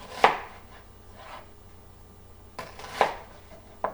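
A knife cuts an onion in half on a board for chili, with three distinct chopping thuds separated by pauses and faint clatter in between.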